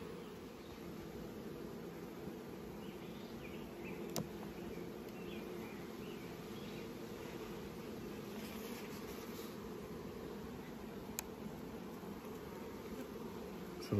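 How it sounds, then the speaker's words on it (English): Honey bees in a hive box, recently split from a small nuc, hum in a dense continuous drone, steady and close, with a few faint clicks and no voices. "So a lot of bees."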